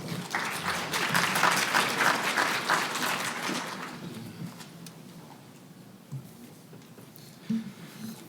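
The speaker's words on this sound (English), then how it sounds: "Please give them a round of applause." Audience applauding speakers at a morning conference session on foreign gifts and contracts reporting; dense clapping for about four seconds, then thinning to scattered claps and room noise.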